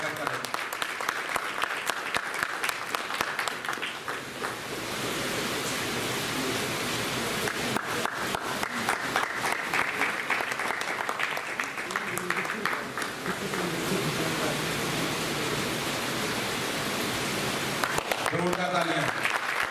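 Sustained audience applause at a three-day theatre festival in Tikamgarh, steady dense clapping from a crowd with voices mixed in, continuing throughout and tapering near the end.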